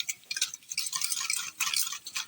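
Eggs with chopped onion, salt and turmeric being whisked in a bowl, giving a quick, steady run of light clinking and tapping strokes, close and fairly loud, with no talking.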